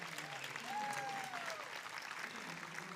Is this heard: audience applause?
yes